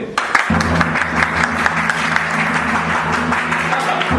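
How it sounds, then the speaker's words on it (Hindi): A theatre audience at a Delhi repertory drama festival breaks into loud, full applause, dense clapping from many hands carrying on for several seconds over a low steady tone. "स्वागत कीजिए मुन्ना त्यागी का जोरदार तालियों से"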